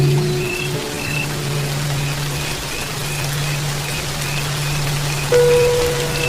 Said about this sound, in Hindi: लेकिन ये बेमौसमी बारिश बंद होने का नाम ही नहीं ले रही